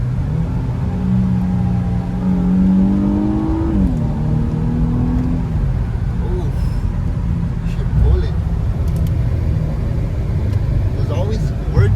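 An Infiniti Q50 engine rises and falls in pitch as the driver downshifts and revs on a road drive, its drone loud and steady from inside the car while people talk over it.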